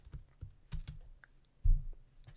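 Quick, quiet keystrokes on a computer keyboard while entering a command in Rhino 3D software, with several light taps and one firmer press close by in a quiet room.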